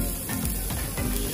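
Oil sizzling on a street-food griddle while a veg kebab roll with onions is cooked, a steady close hiss with faint scraping underneath.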